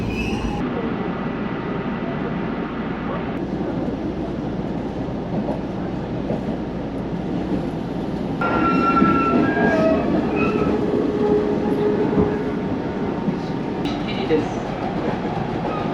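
A Kintetsu Nara Line train bound for Yamato-Saidaiji rumbles into a station, wheels clattering and brakes squealing as it slows, loud and close, with a faint announcement-like voice in the background.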